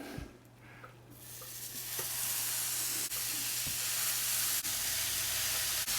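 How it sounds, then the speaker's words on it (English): Quarter-pound ground beef patties sizzle as they brown in a pan, a loud steady hiss building up within the first couple of seconds and continuing, with occasional faint clicks and no talking. "I'm going to be browning these on both sides."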